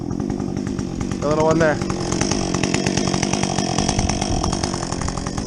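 A Husqvarna 562XP chainsaw with a modified muffler cuts up recently felled trees, its engine droning loud and steady at high revs throughout, while someone talks briefly over it partway through.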